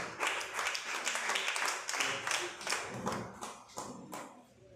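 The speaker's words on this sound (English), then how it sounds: "please clap for him" An audience at an end-of-year party claps for a professor with dense, steady applause, lots of overlapping hands that carry on at moderate loudness and thin out a little toward the end.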